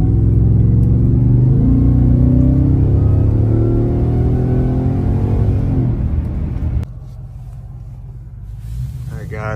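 A Ford Raptor R fitted with an S&B intake revs loudly at part throttle, its deep engine note climbing and holding for several seconds before dropping abruptly to a lower, quieter rumble.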